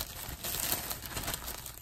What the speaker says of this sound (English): It's a plastic bag.